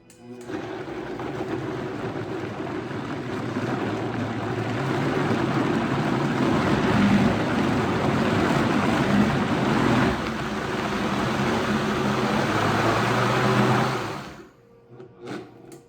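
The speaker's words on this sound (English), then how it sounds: "I'm gonna start blending it really slow so it can start mixing." A steady motor whir of a blender running at low speed blending butternut squash soup, continuous and close, before cutting off near the end.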